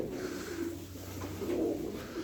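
Pigeons coo in low, rolling, repeated calls close by, a steady murmur of several birds with no talk over it.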